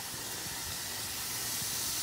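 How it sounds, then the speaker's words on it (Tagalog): Insecticide sprays out in a steady, loud hiss that holds unbroken from start to end, with no voices over it. "So, sprayan na natin to ng insecticide."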